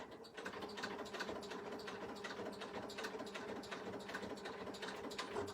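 A sewing machine runs steadily while stitching a double-layered fabric hair scrunchie, a continuous rapid mechanical whir with fine repeating clicks, close and fairly quiet, without talk.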